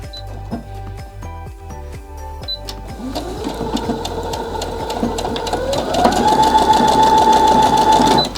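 Baby Lock Jubilant portable sewing machine stitching a buttonhole, a steady rapid needle rhythm that speeds up and rises in pitch partway through, running continuously and close without any talk.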